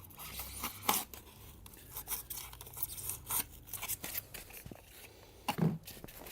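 Flooring material being cut during an install, with a run of close, crunchy cutting and tearing strokes at an uneven pace and occasional louder bursts, with no speech.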